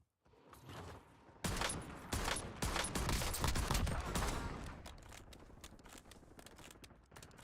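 Rapid video game gunfire from Warzone / Black Ops 6 bursts in a dense fusillade of sharp, closely spaced shots, loud and near, fading into scattered cracks and mechanical clatter toward the end.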